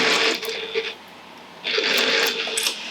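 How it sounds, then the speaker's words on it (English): A sewing machine stitches a gathered panel on a fabric tote bag in two steady whirring bursts with a short pause between them, close and fairly quiet, with no talk. "When sewing around these curves, if you do need to adjust, make sure that your needle's down"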